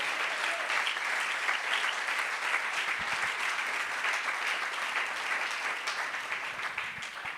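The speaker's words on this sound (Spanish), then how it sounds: "Aplauda la presencia de Dios," Church congregation applauding during a service, a sustained, even patter of many hands clapping at moderate distance, steady for several seconds with little talk.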